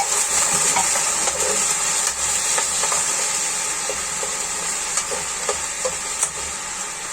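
Vegetables and sardines sauté in a pan with a steady sizzling hiss, broken by soft scattered clinks and stirring taps, close and without talk.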